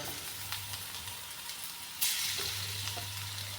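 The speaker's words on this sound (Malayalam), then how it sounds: "ചൂടായ ചട്ടിക്ക് കുറച്ച് നെയ്യ് വെച്ചിട്ട് ഒന്ന് നമുക്ക് പൊരിച്ചെടുക്കാം" Unnakkaya, stuffed plantain rolls, fry in ghee in a hot pan, giving a quiet, steady sizzle with a low hum and a sharp brief crackle partway through.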